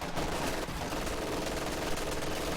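An MG42 machine gun in the strategy game Company of Heroes rattles out a continuous, fast burst of automatic fire, dense and fairly loud throughout, with no voices over it.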